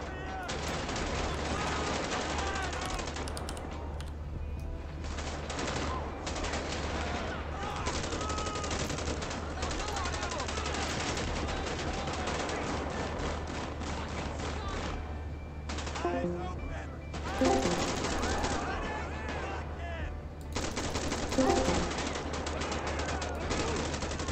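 Dense gunfire in GTA 5 with the LSPDFR police mod, rapid shots and bursts crackling over a constant engine drone throughout, louder volleys near the end.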